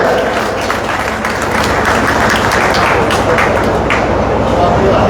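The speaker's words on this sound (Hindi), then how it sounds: "उनका जोरदार तालियों से स्वागत किया जाए" A crowd at an Indian election campaign rally applauds loudly and steadily to welcome a candidate, dense clapping filling the whole stretch with scattered sharper claps standing out.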